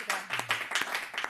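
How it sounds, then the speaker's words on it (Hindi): Audience applause at a Hindi song performance, a short burst of clapping from a crowd at moderate volume. "जोरदार तालियां"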